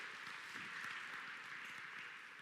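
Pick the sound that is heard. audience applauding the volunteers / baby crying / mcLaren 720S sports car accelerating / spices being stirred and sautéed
audience applauding the volunteers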